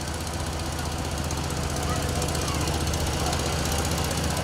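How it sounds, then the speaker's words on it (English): Several John Deere tractors roll past at a community fair parade, their engines chugging in a steady, loud, rough idle with a knocking rhythm under crowd noise and chatter. "we're going to have 5 tractors in a row here. They're all going to be John Deere's"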